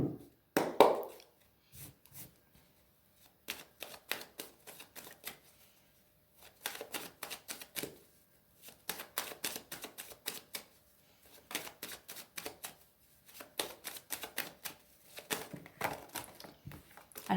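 A nine-card mirror oracle deck being shuffled by hand: repeated bursts of crisp riffling card flutter in close, rhythmic runs separated by brief pauses, with no talking.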